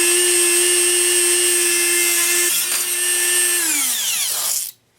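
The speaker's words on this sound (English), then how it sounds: "I'm just going to use my Dremel to cut this" A Dremel rotary tool spins at high pitch while cutting through a metal rod, a steady loud whine that dips briefly midway, then winds down and stops near the end.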